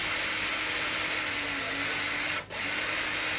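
A power drill whines steadily and loudly while working on a Fender Mexican-made Stratocaster guitar during a refret, a continuous hissing buzz with one brief drop in the middle.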